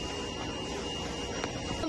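A Huawei DTF printer runs while printing, producing a steady mechanical whir and faint scraping of the moving print head, fairly quiet and continuous with no voices.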